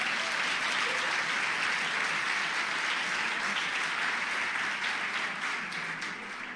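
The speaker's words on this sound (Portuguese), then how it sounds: "Aplauda ele," A church congregation applauding together, a dense, even wash of clapping from many hands that holds steady and tapers slightly at the end.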